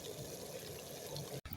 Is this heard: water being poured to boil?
yes